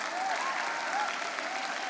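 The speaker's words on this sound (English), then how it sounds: "can we give a huge round of applause to the first affirmative speaker?" Steady applause from a crowd at a junior debate, dense clapping that holds at an even level for the whole stretch, with a faint murmur of voices mixed in.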